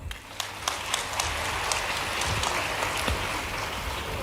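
A crowd at a Bhopal public event with Chief Minister Shivraj Singh Chouhan applauds steadily, the dense patter of many hands clapping at once, with no voices over it.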